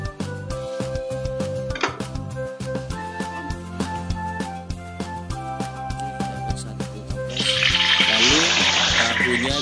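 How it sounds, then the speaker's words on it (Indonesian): Cubed white tofu frying in hot oil, with a loud hiss and sizzle swelling near the end over background music. "Tahunya kita goreng, tapi jangan terlalu masak biar tidak gurih"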